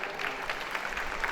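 An audience at a G20 Y20 inauguration function applauds to welcome dignitaries on stage: a dense, even wash of many hands clapping, brief and continuous, with no voices over it.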